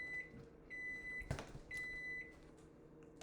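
A microwave oven runs with a faint hum, interrupted by short steady beeps and a single sharp thud or clunk partway through, quiet and close.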